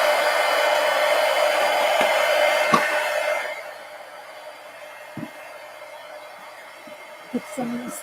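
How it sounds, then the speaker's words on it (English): A heat gun blows hot air over paint on a mixed media napkin journal page. It is a loud, steady rushing roar for about three and a half seconds, then cuts off, leaving faint handling clicks and taps. "Let me hit this with the heat gun real quick."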